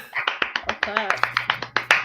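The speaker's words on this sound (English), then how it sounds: "what do we say to that? Golf clap." Soft, polite golf clapping from a small group on a podcast, a steady patter of light, evenly spaced claps close by, with brief talk mixed in.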